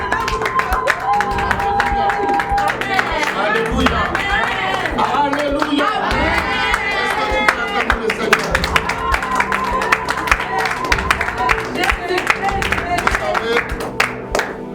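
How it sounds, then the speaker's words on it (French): A church congregation clapping and cheering to welcome a prophet, rhythmic hand claps and crowd noise under music, with voices calling out throughout. "Applaudissez pour lui."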